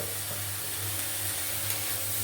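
Tomato, peas and green chili sizzle steadily in a pan for pasta, giving a constant bright hiss with a low hum underneath and faint stirring scrapes, close and unbroken.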